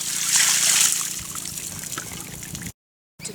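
Cold creek water pours steadily over freshly cooked yabbies outdoors on an outback station, a loud continuous splashing trickle that cuts off abruptly near the end.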